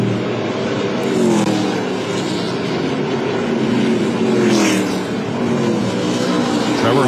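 ARCA Menards Series West race cars at Irwindale, with the leader crossing the start-finish line, make a loud, continuous engine roar whose pitch sweeps and shifts across the full stretch.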